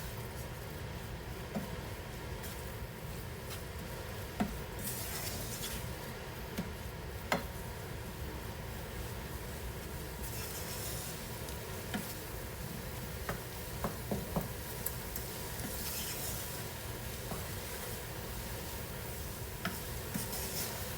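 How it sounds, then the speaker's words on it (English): Taco seasoning gets stirred into browned ground beef in a pan, a low steady sizzle running throughout with faint scattered ticks and scrapes of a utensil, quiet and close. "I'm just going to mix the taco seasoning in and make sure that it gets an even distribution throughout the brown ground beef"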